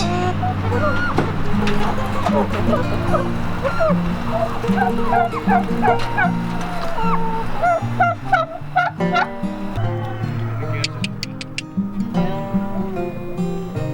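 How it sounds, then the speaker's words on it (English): Homestead turkeys in Idaho gobbling repeatedly in loud, close, overlapping bursts, a busy chorus with other fowl calls mixed in, fading to scattered gobbles near the end. "Some turkeys."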